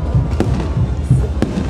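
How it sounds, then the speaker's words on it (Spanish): Fireworks go off at a crowded political celebration in Plaza San Martín, two sharp, distant bangs about a second apart over a constant low rumble of the gathered crowd. "están sonando algunos fuegos artificiales como parte de esta celebración"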